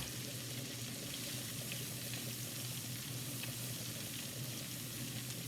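Onions frying in olive oil in a pan, a soft, constant sizzle and crackle heard close, with no talking.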